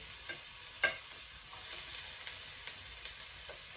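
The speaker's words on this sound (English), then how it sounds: "So I'm gonna put the garlic in first, and the ginger." Garlic and ginger sizzle in a hot pan for ginger pork, a steady close frying hiss broken by a few sharp spatters and light stirring scrapes.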